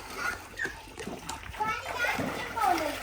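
Water splashing in a bathtub as a child bathes, with choppy splatters and sloshes mixed under a voice and adult talk close by.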